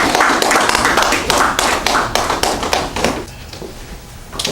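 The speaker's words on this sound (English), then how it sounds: "Please give him a round of applause." Audience applause for a guest speaker being welcomed at a talk, a loud burst of dense clapping that thins out toward the end.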